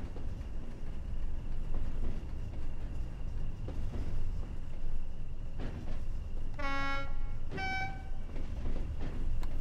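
A British Rail Class 20 diesel locomotive in Rail Freight livery sounds two short horn blasts in the Train Sim World game, over a constant rumbling, rattling cab and engine noise.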